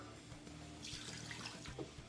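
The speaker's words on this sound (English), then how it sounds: "into it I'm going to put in 1 cup of water" Water pours steadily into a metal pressure cooker pot, a soft continuous splashing trickle, close and fairly quiet.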